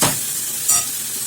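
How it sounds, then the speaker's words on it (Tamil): Radish sautéing in a pan while being stirred, with a steady close sizzle and a brief scrape of the spoon partway through, no voices. "கொஞ்சம் முள்ளங்கி வதங்கட்டும்."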